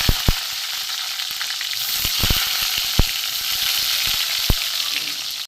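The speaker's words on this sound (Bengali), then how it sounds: "এতে আমি টমেটো কুচি দিয়ে দিলাম।" Chopped tomato frying in a pan, a loud, continuous hiss and sizzle punctuated by several sharp clicks and taps of a utensil against the pan.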